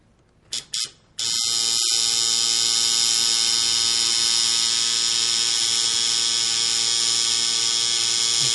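Tattoo machine lining skin: a couple of short starts, then a steady, close, high-pitched electric buzz that runs continuously without a break.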